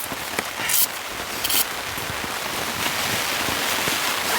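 Heavy rain and strong wind batter a tent during an extreme storm while camping, making a dense, constant hiss of drops with a few sharper gusting bursts on the fabric.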